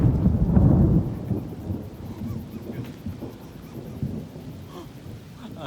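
Deep rumbling thunder from a storm with constant cloud-to-ground lightning rolls in loudly, then fades into a lower, continuing grumble with wind noise.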